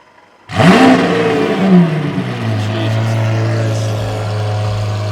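A Liberty Walk Lamborghini Aventador fires up with a loud, close bark and a rising rev. It then drops back to a deep, steady idle rumble that holds on alone.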